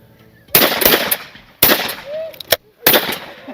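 Gunshots ring out at a shooting range in South Africa, three or four loud close sharp blasts spaced about a second apart, each with a brief ringing tail and faint background sounds between.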